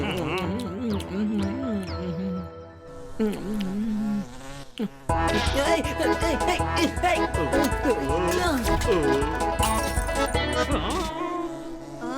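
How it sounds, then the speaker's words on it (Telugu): A housefly buzzes around in an animated scene, its whining drone weaving in and out under music and several voices. "అరే ఈ ఈగ ఎక్కడి నుంచి వచ్చిందబ్బా? అందరినీ ఇబ్బంది పెడుతుంది."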